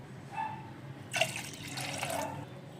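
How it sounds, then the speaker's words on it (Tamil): Water is poured into tamarind water in a pot while making rasam, a short splashing gush lasting about a second, close and moderately loud, with a faint drip just before. "புளி தண்ணி ஊற்றினதுமே நம்ம வந்து 2 கிளாஸ் தண்ணி ஆற்றி சேர்த்துக்கலாம்."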